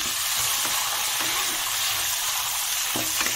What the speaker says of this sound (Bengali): এবার বড় সাইজের 2টো পেঁয়াজ কুচি আমি অ্যাড করে দেবো।